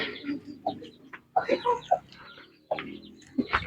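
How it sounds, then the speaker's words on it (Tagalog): A brooding labuyo junglefowl hen gives soft, low clucks in short irregular bursts, close by, with a few brief higher chirps mixed in and no talking. "Meron ako isang inain dyan mga ka-target na naglilimlim"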